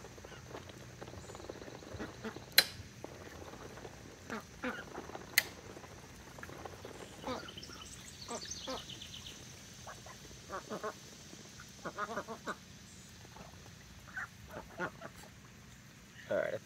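Hungry ducks feed noisily from scattered feed, with soft quacks and wet dabbling and clicking bursts scattered irregularly over a quiet outdoor background, fairly close.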